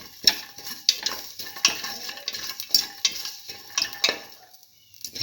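Food sautéed and stirred in a pan for a tomato and split pigeon pea dish, with repeated utensil scrapes and taps against the pan over a light sizzle in a steady rhythm, close and moderately loud.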